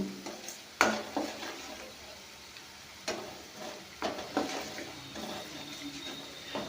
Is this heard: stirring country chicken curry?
yes